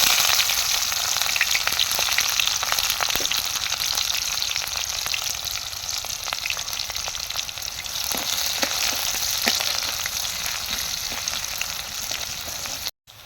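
Chopped onions frying in a pan for a goat meat and potato curry, a loud, dense, steady sizzle with faint crackles throughout, close up and without speech, cutting off abruptly at the end.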